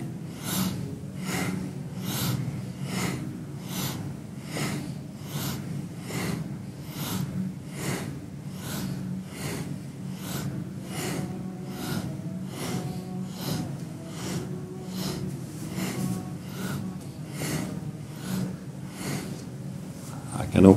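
Rhythmic, forceful breaths during a kundalini yoga exercise repeat in a steady, quick pulse about once per second, with quiet background tones underneath.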